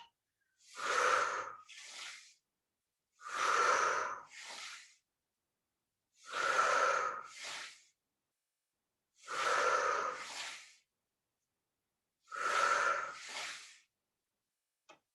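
Steady exhalations during a Pilates exercise, five strong breathy outbreaths each followed by a shorter puff, recurring about every three seconds, close and loud with silence between.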